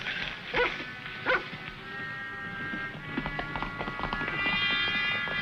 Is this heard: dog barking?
yes